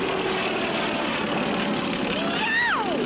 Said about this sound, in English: It's a plane coming straight at us!